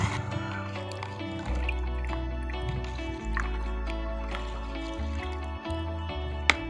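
Pomegranate peels are stirred in a container of water to make fertilizer, with soft close sloshing and liquid drips under a continuous low musical hum.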